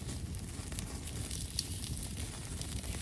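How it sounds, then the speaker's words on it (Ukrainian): Salo, cured pork fat, sizzles over an outdoor campfire, a soft continuous crackle and hiss with small pops, faint and steady throughout. "Сало шкварчить."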